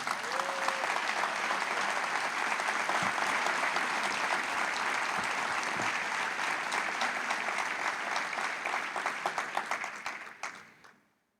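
A church congregation applauds in a temple, a full, steady roar of clapping from many people that holds for about ten seconds before tapering off and fading out at the end.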